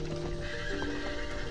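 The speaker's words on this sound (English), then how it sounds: "I was recently invited to photograph the Arabian horses at Bayt al-Arab in Kuwait." Arabian horses at Bayt al-Arab in Kuwait whinny over a steady close clatter of hooves, a dense outdoor mix with no talking.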